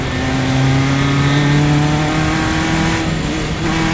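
Formula race cars race closely in an SCCA event at Gingerman, loud engines screaming at high revs with rising and falling tones as several cars pass together.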